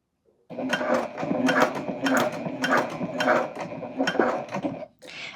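A sewing machine stitches fabric for a crescent moon bag in a near, continuous mechanical whir with rapid needle clatter, briefly stopping before a short final burst. A faint voice may be present.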